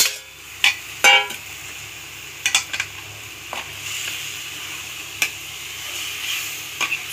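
Marinated mint chicken frying with onion-tomato masala, a soft sizzle under scattered spatula clinks and scrapes against the pan, some in quick pairs.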